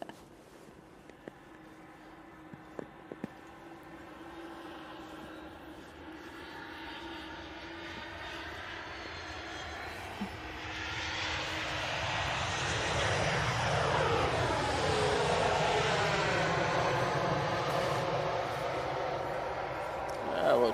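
Qatar Airways jet engines spool up at Manchester Airport, a distant hum swelling into a loud, rising roar with sweeping tonal whines. Voices talk faintly in the first part.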